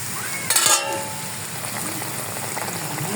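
Paneer frying in a pan while being stirred: a soft, even sizzle throughout with a brief clatter of utensil against pan near the start and scattered small pops, fairly quiet and close.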